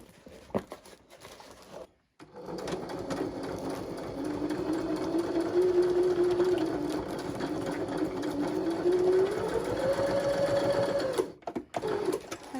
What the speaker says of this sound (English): you're going to stitch about 2 inches in